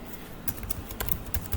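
Keys clatter on a computer keyboard in quick, irregular bursts of soft clicks, close and fairly quiet, while someone works on web page code.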